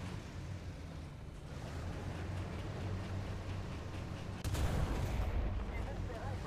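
A single sharp gunshot in a realistic ground-combat video game rings out partway through, over a steady rumbling background din.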